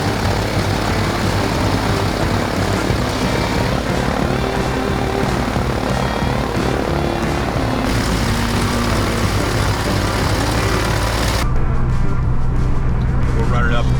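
A light aircraft's engine idles at 1,000 RPM after sitting abandoned for 15 years, a loud, steady propeller drone that continues evenly throughout, with a change in tone near the end.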